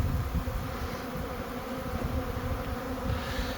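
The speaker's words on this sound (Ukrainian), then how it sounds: "Все гудить, все жужить, кожен вулик, все літає, красота." Honeybees buzzing around the hives of an apiary: a steady, dense drone from many insects at once, close and continuous throughout with no talking.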